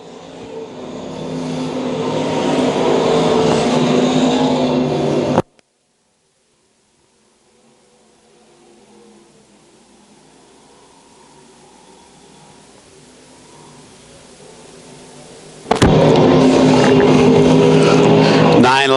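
Stock cars roar around a speedway in a loud, sustained engine drone, which cuts out abruptly into a long quiet gap and then returns at full volume.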